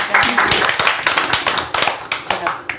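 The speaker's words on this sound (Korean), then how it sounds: "박수" An audience at a Catholic discussion gathering claps in scattered, rhythmic bursts close by, with voices talking over the clapping.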